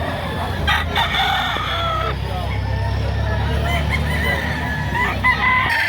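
Chickens and gamefowl roosters at a market crow and cluck repeatedly, several birds at close to moderate distance, over a constant background babble of people talking.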